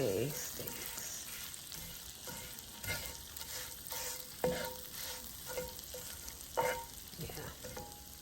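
Steak sizzles steadily in a skillet with butter, a soft continuous frying hiss broken by occasional scraping and stirring knocks, fairly quiet and close, with no talking.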